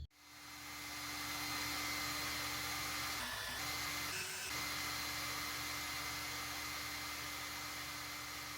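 A heat gun or hair-dryer-style blower warms the headlight housing of an 8th-gen Honda Accord, a steady close airy roar with a constant hum and two brief dips in the middle, no voices.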